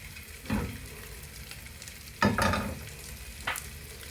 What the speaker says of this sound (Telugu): ఈ గుడ్లు ఇందులో ఫ్రై చేస్తున్నానండి